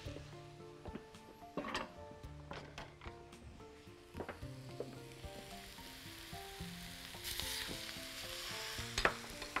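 Minced red meat frying in a pan, a soft sizzle beneath frequent stirring and scraping knocks of a utensil against the pan, with a brief surge of hiss near the end, close but fairly quiet.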